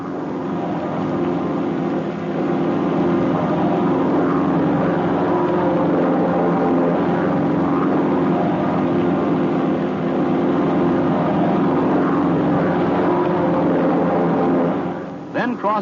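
Propeller-driven training planes flying in formation give a steady, loud engine drone with a low throbbing hum that holds unbroken throughout, close and continuous with no talk.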